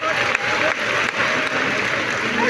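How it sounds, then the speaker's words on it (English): Graduation audience clapping for parents and guardians, a steady, dense round of applause filling the hall, moderately loud and continuous for a couple of seconds. "Can you not give them a warm round of applause?"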